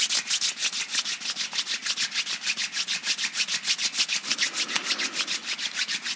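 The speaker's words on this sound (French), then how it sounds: "On frotte les mains." Palms rub briskly together during a seated sophrology relaxation exercise, a close, rhythmic swishing of about five strokes per second sustained for several seconds with no talking.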